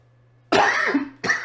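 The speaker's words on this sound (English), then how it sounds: "I just coughed there." A man coughs at his microphone during a truck-driving game session: one harsh, loud cough, a short pause, then a second shorter burst, close and dry.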